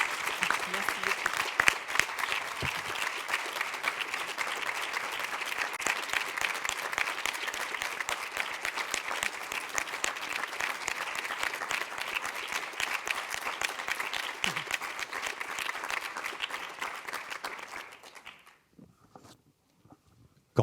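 Sustained applause from a conference audience at the close of a caregiving congress session fills the room steadily for about eighteen seconds, then stops abruptly, leaving near silence with a few faint stray sounds.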